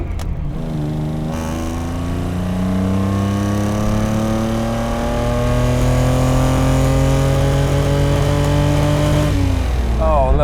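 A 1960s Toyota 2000GT engine revs hard and climbs steadily through a long pull of about nine seconds, heard loud from inside the car, then eases off at the end.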